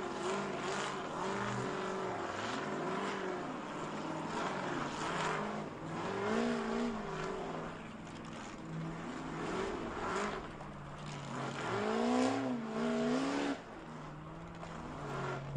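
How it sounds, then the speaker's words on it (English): Off-road race cars crawl up the rocks of Jack North at the 2019 King of the Hammers, their engines revving and straining hard in rising and falling surges, loud and continuous, with no talk over them. "you can hear how hard those cars are working to pick their way up through Jack North"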